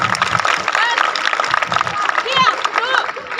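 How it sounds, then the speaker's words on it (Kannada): An outdoor audience in Bidar claps to cheer on a police self-defence demonstration by the Akka Pade women's squad; dense, steady applause and crowd noise run throughout, with a loud voice talking over it. "ಜೋರಾಗಿ ಚಪ್ಪಾಳೆ ತಟ್ಟಬೇಕು, ಚಪ್ಪಾಳೆ ತಟ್ಟಿ ಪ್ರೋತ್ಸಾಹಿಸ್ತಾ ಇರ್ಬೇಕು"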